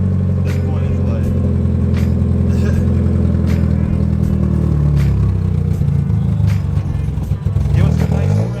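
A Mazda Miata engine running nearby with a rough, throbbing idle that rises in pitch as it revs, with rattling clatter and a person talking over it.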